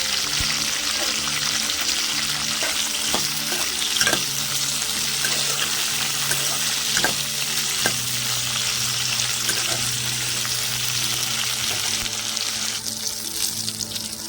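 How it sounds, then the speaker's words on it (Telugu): Coriander seeds and chilies fry steadily in a pan for tomato chutney, a constant close sizzle with occasional sharp pops and faint stirring scrapes, no talking. "ఇలా గోల్డ్ కలర్ వచ్చేదాకా మంచిగా వేయించుకుందాం"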